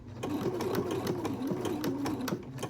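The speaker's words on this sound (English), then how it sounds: "We don't need to force the fabric through the machine, but I do hold it gently just to make sure that it goes where I want it to go" A Husqvarna Viking Freesia sewing machine stitches a buttonhole with a quick, steady mechanical chatter of needle strokes, close and fairly quiet, with no talking over it.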